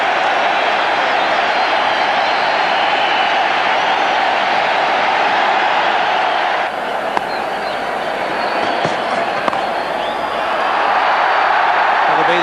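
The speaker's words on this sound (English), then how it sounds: "this huge National Stadium crowd are certainly saluting him" A huge National Stadium crowd at a 1996 South Africa versus Pakistan cricket match roars and cheers continuously, a dense distant wall of noise under a commentator's voice.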